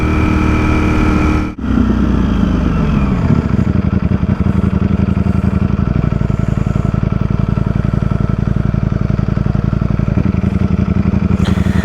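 A 2023 Ducati Streetfighter V4S motorcycle ridden through a leafy Sydney suburb toward Coogee Beach, its engine a loud, close, continuous rumble that briefly cuts out early, then settles into a steady cruising drone with slight pitch swells.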